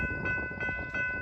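A train rolls along the rails in Merced, California, its steady multi-note horn sounding loud and close over the rumble of the cars, with no voices.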